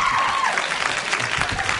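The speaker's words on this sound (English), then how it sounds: "He's clapping for himself." A man claps, a dense burst of hand claps close by that sounds like a small round of applause, lasting under two seconds.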